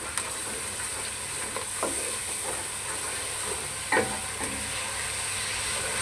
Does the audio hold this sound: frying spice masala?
yes